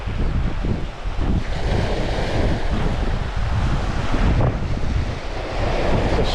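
Strong wind buffets the microphone on an open beach, a loud continuous rushing roar with gusty low rumbles and distant surf underneath, no voices.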